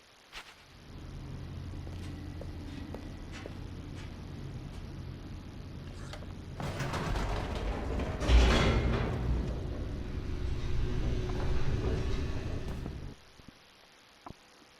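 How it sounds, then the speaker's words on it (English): Elevator descending in The Stanley Parable: Ultra Deluxe, a steady low mechanical rumble that swells and roughens midway with rattling bursts, then cuts off abruptly near the end. "The elevator raced downward, plummeting towards an unknown fate."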